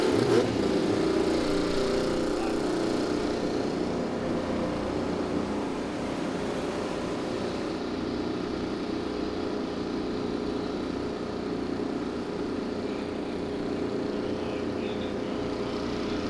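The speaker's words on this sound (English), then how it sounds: "Drivers, start your engines!" IndyCar race cars at the 2015 Honda Indy Grand Prix of Alabama firing up their engines together, a dense, steady roar of many motors at once, loud and continuous throughout with no talk.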